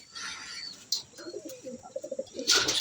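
Racing pigeons coo softly in their loft after landing from a derby race, a run of low repeated coos building toward the end, with a brief burst of wing flaps or rustling near the close.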